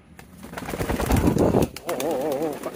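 Female pigeon at a bustling pigeon market, giving a close throaty coo with a warbling trill near the end, over background bustle and a human voice.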